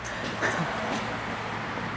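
A puppy whimpers softly indoors, a thin high whine with a few faint yips over a steady low background hum.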